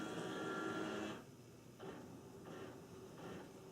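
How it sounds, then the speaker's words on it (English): A low mechanical whirring and grinding from a nearby printer, running steadily, then dropping and returning in short uneven bursts. "My printer just decided to start making noise."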